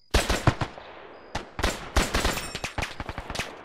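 Bursts of machine-gun and rifle fire in the World War II game Brothers in Arms, sharp close rattling volleys in several quick clusters with brief pauses between them.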